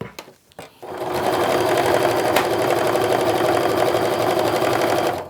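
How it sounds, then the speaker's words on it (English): A sewing machine runs at a steady fast pace stitching quilt block halves together, a continuous close mechanical whir after a few brief handling clicks. "So now I'm going to do the same thing, sewing together the other half."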